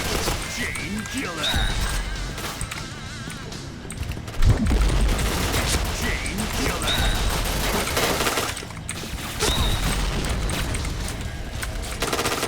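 Rapid gunfire from an online shooter, Point Blank, crackles in bursts throughout with one sharp loud shot near the middle, mixed with game effects while someone talks over it.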